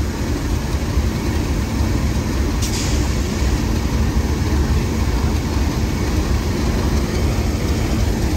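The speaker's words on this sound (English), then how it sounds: "see if we can get that steam train before we go" A loud, steady rumble from the steam locomotive Sir Nigel Gresley standing at the North Yorkshire Moors Railway, with constant low mechanical noise and one brief hiss partway through; no voices.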